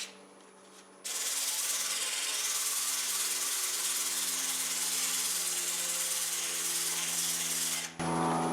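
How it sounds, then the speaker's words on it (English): Sandpaper held against a spinning wooden plug on a woodturning lathe, a loud, steady hissing rub lasting several seconds after a quieter motor hum, then cutting off abruptly. "I did a little additional sanding, but I finally got the plug cut where it's going to fit"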